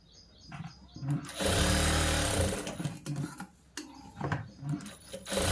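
A sewing machine runs a double stitch along the shoulder seam of a boys' school uniform shirt, heard close up in several short bursts of rapid stitching with brief pauses between them.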